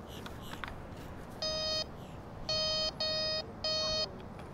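Metal detector giving a coin-target signal: four clean, steady electronic tones, each lasting under half a second, sounding close and clear over faint background hiss.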